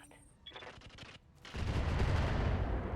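Rapid volleys of weapon fire in the mech combat video game RogueTech, a quick run of staccato shots followed by a loud sustained roar of explosions and gunfire.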